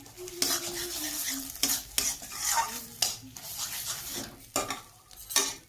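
Bottle gourd leaves are stirred with salt and turmeric in a pan. Rhythmic scraping strokes of a spatula against metal repeat every second or so over a soft, close sizzle.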